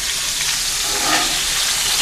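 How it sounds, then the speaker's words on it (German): Cabbage rolls brown in a hot Dutch oven with a loud, continuous sizzle and crackle of frying fat, steady throughout with no talking. "Ja, da brotzelt schon ordentlich da drin."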